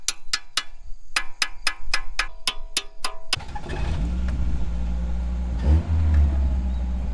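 A Toyota AE86 with a clogged carburetor and a stuck float: a quick run of sharp, evenly spaced metallic clicks, then the engine catches and settles into a rough, steady low rumble that swells briefly near the end.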